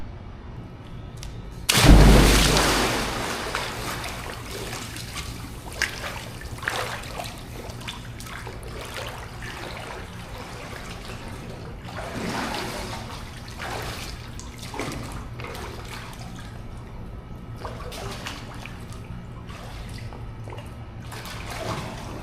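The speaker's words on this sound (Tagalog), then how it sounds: "this is the pool" Water in a private villa swimming pool at a hotel in Clark: a loud splash, then steady trickling and lapping with scattered small splashes, fairly close and alone.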